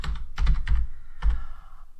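Keys are struck on a computer keyboard in a few quick clustered taps, then a pause and one more short burst, each keystroke a close, dull clack with a soft thump beneath.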